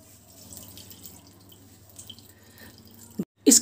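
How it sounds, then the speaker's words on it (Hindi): Water being wrung from chhena, curdled milk wrapped in cloth, while making rasgulla at home: faint trickling and dripping for a few seconds, then a short louder splash and spatter near the end. "इसकी ज़्यादा पानी नहीं निचोड़नी है, बस इतना ही।"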